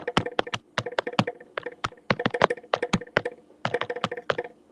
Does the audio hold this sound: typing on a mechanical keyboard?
yes